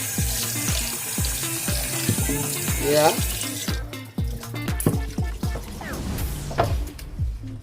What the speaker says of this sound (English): The hot water has taken everything out.